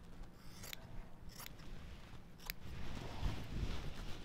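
Scissors trimming bias quilt binding by a quarter inch, three or four crisp close snips spaced apart over a soft rustling of fabric, with no talk.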